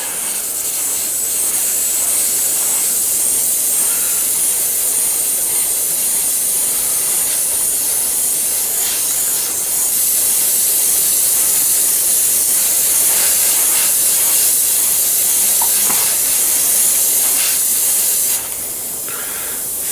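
An airbrush sprays thinned pale orange paint onto a figure, a loud steady close hiss that runs almost unbroken before cutting off near the end.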